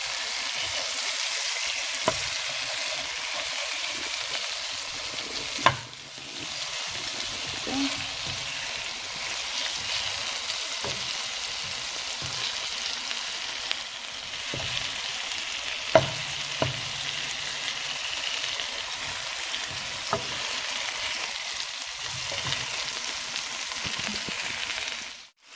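Curry-seasoned chicken pieces fry in oil for Jamaican-style curry chicken, a steady, close hiss of sizzling with a few soft clinks and bumps from flipping and stirring, with no voice over it.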